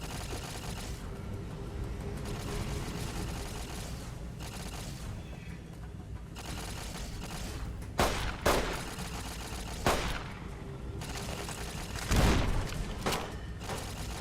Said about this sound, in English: Auto rifle did its job.